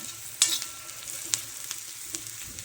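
Onion frying in a thick iron tava, a soft continuous sizzle with a few sharp spatula clinks and scrapes, close but fairly quiet, no voices.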